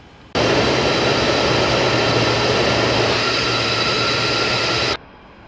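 Jet engines of a Boeing 747-200F freighter in the X-Plane simulator throttle up to a steady, loud, broadband roar with a low hum underneath, holding at full power for about four and a half seconds before cutting off abruptly.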